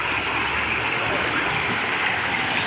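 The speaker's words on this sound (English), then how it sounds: "Check out the current of this river." River current rushing along the Big Sur coast near Partington Cove, a steady, dense wash of water noise that holds unbroken and fairly loud throughout, with no voices.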